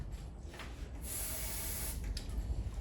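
An aerosol spray paint can releases a steady, close hiss in a continuous burst of roughly a second, with quieter spurts before and after, during a spray art lesson on strokes and movements.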